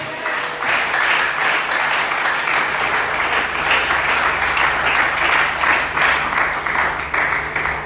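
A church congregation applauds and cheers for the Lord, a dense, sustained burst of clapping from many hands that stays loud and even throughout, with a low hum underneath.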